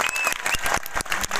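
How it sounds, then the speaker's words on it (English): A crowd at a college Women's Day celebration breaks into steady, dense applause, close and loud, with many hands clapping at once. "give her a nice round of applause"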